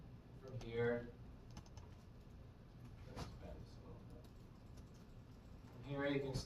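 Typing a command on a computer keyboard during an NMR protein structure software session, a short run of soft keystrokes under a quiet room tone, with a person talking before and after.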